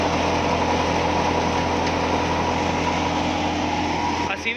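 An engine-driven wheat thresher runs at speed during the harvest, giving a loud, steady mechanical drone with a constant hum and rattle that holds evenly, then dips briefly near the end.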